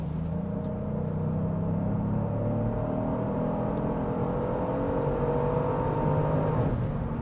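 A Genesis GV70 facelift in comfort mode accelerates hard to overtake, its engine note climbing steadily in pitch from inside the cabin over a constant road rumble.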